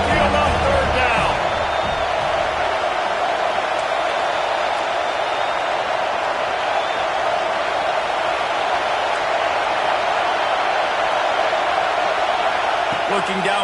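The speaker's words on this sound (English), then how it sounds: "The Tide crowd rolling noise down on the Saban field on third down" Roaring crowd at an Alabama Crimson Tide football game on third down, a dense, sustained wall of stadium noise that stays loud and steady throughout, with a broadcast announcer talking over it.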